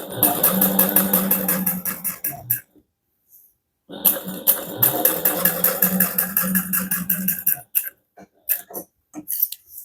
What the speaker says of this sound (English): we're just top stitching on the side panel using a 1/8 inch seam allowance